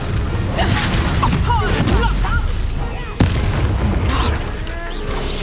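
A Confringo fire spell explodes during a Hogwarts Legacy battle, a sharp blast with a sudden hit partway through, layered over constant busy combat noise and shouting voices.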